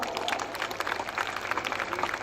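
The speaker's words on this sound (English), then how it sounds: "All of you, please clap for the recipients of the awards." Audience clapping for award recipients at a university degree ceremony, a soft, steady patter of many hands heard from a distance, with faint crowd murmur underneath.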